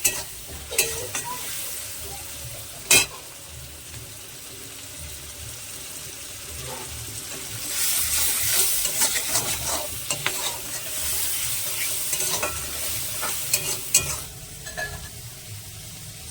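Red amaranth greens stir-fry in a hot pan, a continuous close sizzle with repeated scraping stirs and occasional clacks of the spoon, growing louder and hissier midway.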